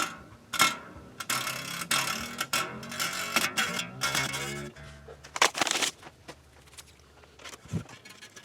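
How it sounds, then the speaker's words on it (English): Locking wheel on the back of an Ibanez Iron Label guitar being snugged down, giving close, irregular ratcheting clicks and small metallic knocks in short bursts, fading out toward the end, with no talk. "you just snug down the locking wheel on the back here"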